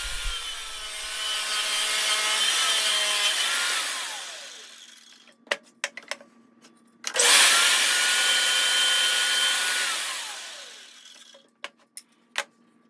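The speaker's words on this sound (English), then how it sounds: "So next I'm going to just rip the poplar board." Power saw ripping a poplar board for a picture frame: two long, loud whining cuts, each rising and fading, separated by a few sharp knocks and clatters of wood, no talking.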